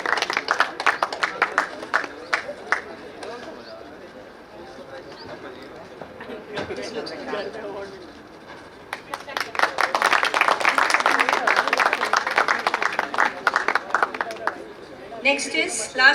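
Graduation ceremony audience applauding a staff member honored for ten years of service, with bursts of clapping from a hall crowd, a quieter stretch in the middle, then a fuller, sustained round, mixed with voices.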